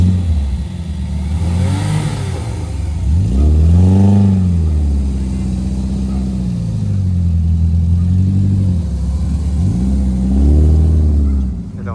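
A 5-litre Ford Mustang revs up close and loud, its engine note sweeping up and falling back in several long surges over a steady idle rumble, with no voices.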